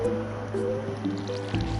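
A watering can sprinkles crops in the video game Stardew Valley, giving soft, repeated splashy drips and trickles over a low background hum.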